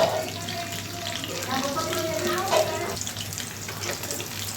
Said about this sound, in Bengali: এক পাশ ভাজা হয়ে গিয়েছে, এবার আমি এগুলা একটি খুন্তির সাহায্যে উল্টে দিচ্ছি।